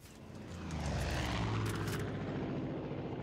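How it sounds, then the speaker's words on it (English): An enemy airplane in the Far Cry 5 video game flies overhead with a loud, steady propeller engine roar that swells to a peak and then slightly eases, with no talk over it. "Now they got a plane."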